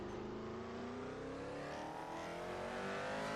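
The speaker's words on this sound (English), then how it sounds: "Always loved the grunt of this Lotus." A Lotus race car with a Ford Cosworth engine in a sim racing video game, its engine holding a loud, continuous grunting drone with rising harmonics as it accelerates, close and alone without talk.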